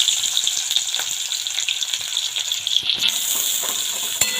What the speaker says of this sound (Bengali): সামান্য একটুখানি দেখো ভাজা ভাজা হয়েছে